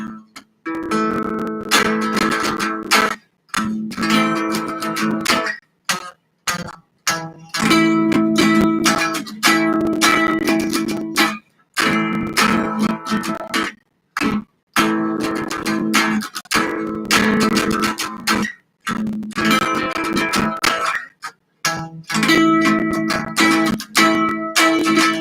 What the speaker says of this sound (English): Now we're gonna do the bottom 4 string chords that sound a little like this right here